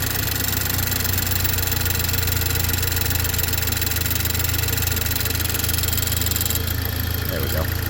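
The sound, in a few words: 2008 Saturn Sky engine idling with fuel tapping sound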